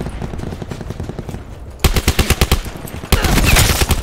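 Rapid automatic gunfire in Call of Duty Black Ops 4 Blackout: evenly spaced bursts of shots, softer at first, then abruptly louder and closer, continuing to the end.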